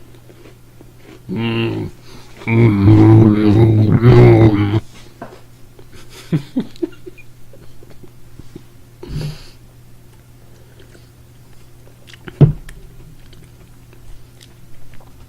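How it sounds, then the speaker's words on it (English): Crackers from a Lunchable are crunched and chewed up close in a burst of loud biting, followed by scattered quieter chews and clicks, with a brief murmur from the eater. "Is he eating crackers? What is that, a Lunchable?"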